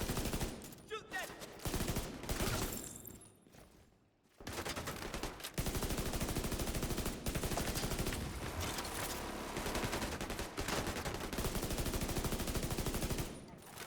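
Rapid bursts of gunfire from the video game The Division 2, repeated volleys and automatic fire filling most of the stretch, with a brief lull partway through.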